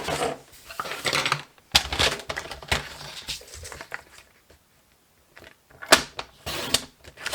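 Cardstock being trimmed to a 2 3/4 inch width for a Stampin' Up! Magnolia Lane pretty bag, heard as a series of close, sharp cutting and sliding clicks in irregular bursts with quiet gaps between.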